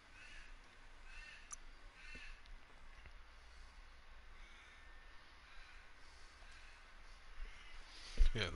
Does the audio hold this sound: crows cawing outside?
yes